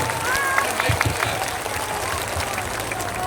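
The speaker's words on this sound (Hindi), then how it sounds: "अब बजा लीजिए ताली" Crowd applause at a political rally in Patna, a moderate patter of clapping with some louder individual claps early on and a voice speaking over it.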